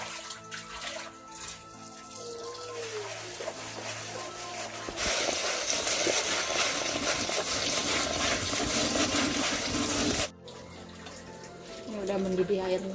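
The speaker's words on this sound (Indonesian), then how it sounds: "Ini udah mendidih airnya." A pot of water boils hard over an open fire for rice, a loud, steady rushing and bubbling roar that swells partway through and then drops off abruptly, with a voice faintly under it.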